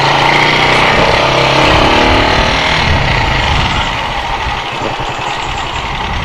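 Motorcycle engine running steadily while riding around Johor, Malaysia, a loud continuous broadband drone with wind rush, easing slightly in the second half, no talk.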